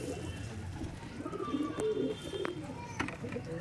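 Domestic pigeons kept for racing coo softly in a loft, low throaty calls repeating under steady background noise, with occasional sharper chirps and faint voices nearby.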